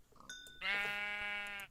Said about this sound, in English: Plenty of sheep though.